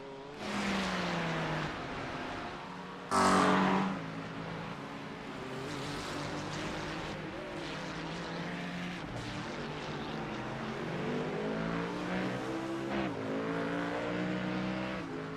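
Ford Mustang race car engine in a driving video game, a high revving drone that climbs and falls through gear changes, with a sharp louder burst early on before settling into sustained acceleration.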